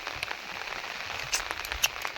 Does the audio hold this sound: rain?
yes